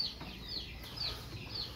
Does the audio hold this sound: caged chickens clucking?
yes